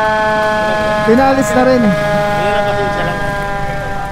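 Wailing fire truck sirens rise and fall in sweeping tones over a steady horn drone, loud and close, while someone speaks over them.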